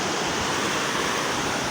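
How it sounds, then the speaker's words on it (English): A river flowing at Nyabohanse, Kenya, gives a dense, continuous rushing hiss, loud and close, with no breaks or voices. "Guys, this is how river looks."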